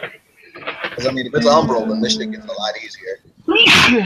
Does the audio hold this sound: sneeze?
yes